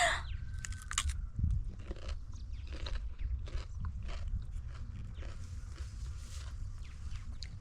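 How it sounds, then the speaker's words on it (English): Crunchy bites and chewing of a homegrown cucumber, close and fairly quiet, with a sharp crunch near the start followed by steady chewing and faint scraping, with no talking. "Time to crunch."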